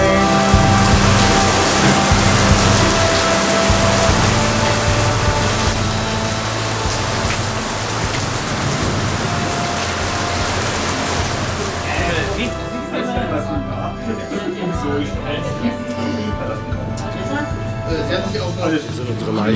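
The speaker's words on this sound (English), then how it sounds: "now finally it's raining" Steady rain pours down during a hot-weekend production loadout, a dense, loud hiss that dominates for about twelve seconds before dropping to a thinner patter with other sounds over it.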